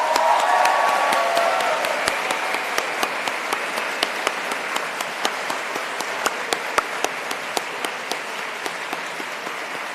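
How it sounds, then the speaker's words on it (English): A crowd at a class of 2024 graduation ceremony applauds the graduates, starting as dense, full clapping and thinning to scattered individual claps with no voices. "I cannot help but ask everyone here to cheer and applaud all the graduates of"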